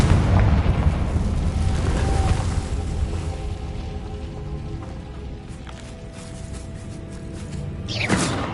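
A Confringo blasting spell goes off in the Hogwarts Legacy video game as a deep rumbling explosion that rolls on and slowly fades, ending with a sharper whooshing burst.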